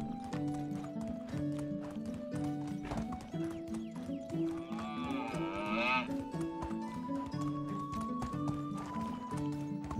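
Horse hoofbeats in the medieval game Medieval Dynasty, a rhythmic clip-clop with a whinny midway, set against game music and with some talk over it.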